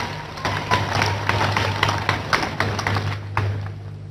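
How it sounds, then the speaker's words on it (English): A church congregation claps for Jesus at a healing service, a quick, steady run of handclaps over a low droning hum. "Let's clap for Jesus."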